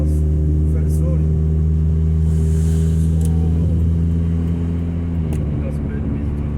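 A 2000 Nissan Altima with an exhaust leak at the braided flex pipe, its engine giving off a loud, steady low rumble and drone close by, easing slightly near the end.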